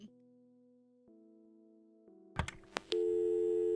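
Phone ringing tone in the video game Kathy Rain: steady electronic call tones that shift pitch in steps, then a few sharp clicks and a louder sustained tone at the end, with no talking.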